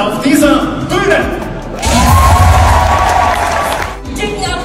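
A stage audience at a German women's football event erupts in loud applause, cheering and whoops for national team players, with a booming voice speaking over the crowd before the cheer swells and then fades.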